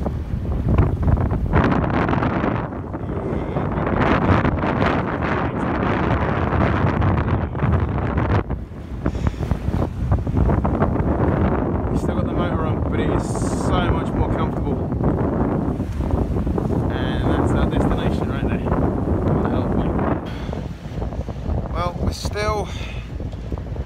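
A sailboat motor-sails on a lumpy Lake Michigan at about seven knots under the mainsail, with strong wind buffeting the microphone, water rushing past the hull and a voice talking over it.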